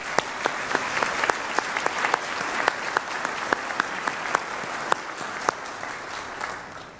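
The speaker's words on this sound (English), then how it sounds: "Can we all give them, please, a round of applause?" An audience at the University of Illinois College of Medicine Peoria convocation for the class of 2023 claps, with distinct, fairly sparse hand claps that thin out toward the end.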